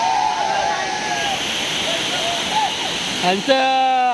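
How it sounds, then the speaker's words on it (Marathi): Navlai waterfall near Umrath village in the Konkan, Guhagar area, gives a steady rushing roar of falling water, with someone talking over it throughout and a short burst of other voices near the end. "नवलाई वॉटरफॉल माझ्या पाठीमागे बघताय तो"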